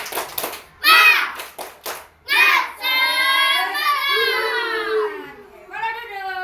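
Young children in a classroom led by a teacher chant a spirited clapping cheer together, their loud sung voices punctuated at the start by a few sharp, rhythmic hand claps.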